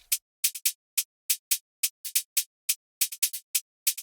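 Crisp, bright hi-hat ticks in a bouncy, syncopated drill pattern, two interlocking layers of short closed hats, one pitched down, playing alone with no other instruments.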